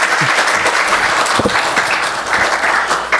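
A church congregation claps in welcome during a Sunday worship service, a dense steady patter of many hands filling the room with a few sharper claps standing out.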